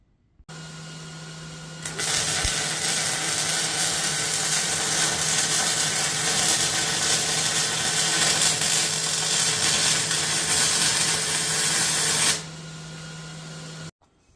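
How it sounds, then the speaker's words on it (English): Welding around steel tubing on a trailer BBQ smoker, a steady loud crackling hiss of the arc running for about ten seconds over a constant electrical hum, then stopping while the hum continues. "We'll make sure this thing is plumb and square and weld around that tubing."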